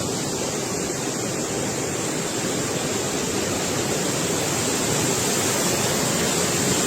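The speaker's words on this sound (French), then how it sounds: "découvre la cascade du Bief de la Ruine en direct" Cascade du Bief de la Ruine, a waterfall in the Gorges de Malvaux in the Jura, roars as a steady, dense broadband rush of falling water, constant and close with no voices.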